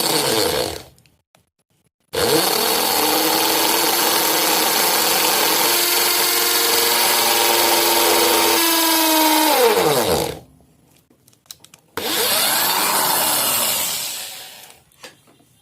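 A power drill bores a hole through a wooden motor mount base for an egg turner tray, a loud steady whine of about eight seconds with the pitch sagging as it slows, then a shorter second burst after a pause.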